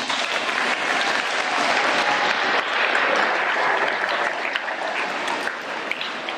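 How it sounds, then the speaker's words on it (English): Audience at a school Veterans Day ceremony gives a hand for a student named Jackson: continuous, fairly loud crowd applause filling the hall, steady throughout with no talking. "Give Jackson a hand."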